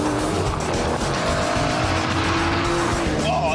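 An Aston Martin DBS V12 slides under power, its engine roaring loud and close while the tyres squeal through the skid, with a rising whine near the end.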